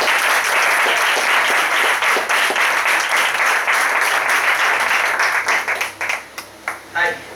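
Loud, dense audience applause in a hall greeting speaker Albert Reverter, sustained and even before breaking into a few scattered claps as it dies away.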